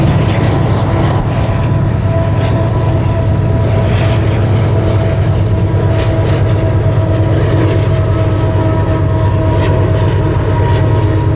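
Loaded eastbound BNSF coal train in the Powder River Basin rounding a sharp curve, a loud continuous rumble of engines and wagons with steady wheel noise, close by and unbroken throughout.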